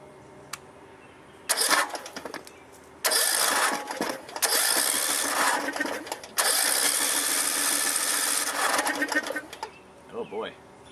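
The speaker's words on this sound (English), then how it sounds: "we'll go ahead and crank the engine to get whatever remaining water is in there out" A neglected Briggs and Stratton 13.5 hp small engine cranks in several bursts of rough, churning whirring, with short pauses between pulls and a faint spurt at the end as water is cleared from it.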